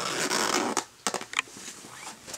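A zipper pocket on the back of a Nicole Lee LC1636 handbag is pulled open in a few quick, close rasping strokes, with no talking over it.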